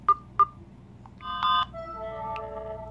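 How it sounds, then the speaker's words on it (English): Electra notification tone from a Samsung Galaxy Express phone: two short bright beeps, then a chiming, bell-like melody that rings out and fades, fairly clear against quiet room noise. "I honestly think that notification sound is beautiful."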